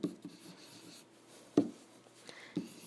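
Soft scratches and taps of a pen writing numbers by hand on paper, quiet and close, coming in a few short strokes with brief gaps between them.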